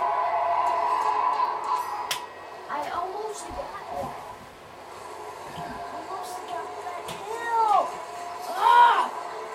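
Cats meowing in the video game Plants vs Zombies Garden Warfare 2, several short mews rising above steady game noise and ongoing talk, with a louder cry near the end.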